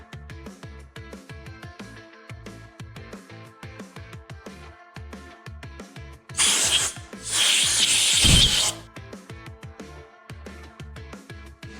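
A rag wipes the mating surface of a Gen 3 5.3 V8 engine block clean and dry, heard as a loud, coarse rubbing burst lasting about two seconds against quieter rhythmic background sound. No one talks.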